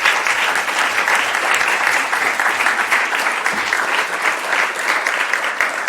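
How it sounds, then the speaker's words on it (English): Conference audience clapping after a panel discussion at a green digital technology event, a loud, dense, sustained round of applause from many people, steady throughout and near, with no speech over it. "I think we can give a round of applause once again"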